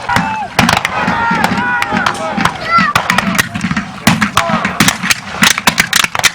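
Musket volleys crack out across a Civil War battle reenactment as lines of soldiers alternate their fire, sharp repeated reports scattered through the clip, some near and loud, others farther off, over a murmuring crowd and a spectator's voice.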